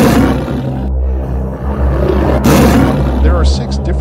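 A tiger lets out loud, rumbling roars, deep and close, rising twice in heavy growling bursts under a voice that keeps talking.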